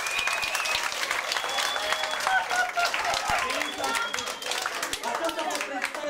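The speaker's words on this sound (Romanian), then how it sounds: "Aplauze," Brisk clapping from a crowd fills the air, mixed with chatter and raised voices, continuous throughout.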